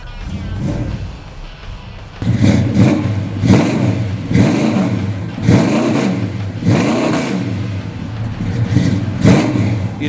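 A 1970 Plymouth Roadrunner with a 440 Mopar V8 and three two-barrel carburetors fires up after a brief crank, then a loud, close, throaty rumble with several repeated rev swells, no talking.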